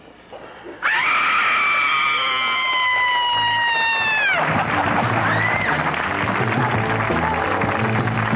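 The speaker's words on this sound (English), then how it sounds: "you scream us into commercial" A woman lets out a long, loud, piercing scream on a television talk show set, holding a sustained high wail for about three seconds before it breaks off into studio noise.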